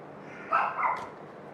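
A dog indoors gives a couple of close, quick barks or yips, heard alone against quiet room tone.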